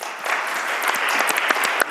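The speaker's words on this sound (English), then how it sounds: "Please give a round of applause for our first panel." An audience at a University of St. Thomas Law event applauds its first panel, a brief, loud, continuous wash of clapping with a few sharper claps standing out.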